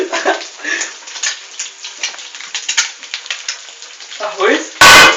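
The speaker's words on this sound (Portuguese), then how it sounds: "tem que deixar fritar, velho" An egg fries in a pan with a crackling, spattering sizzle that carries on steadily at close range, ending in a sudden loud burst.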